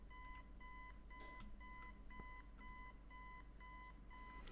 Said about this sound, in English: Alarm jump scare.